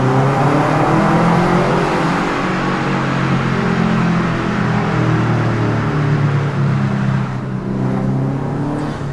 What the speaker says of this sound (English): my car might sound badass right now, but truth is I have zero power at all